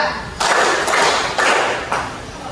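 Students in a lesson opening clap together in a rhythmic counting routine, with about four firm, evenly spaced group claps, close and clear, each trailing a short room echo.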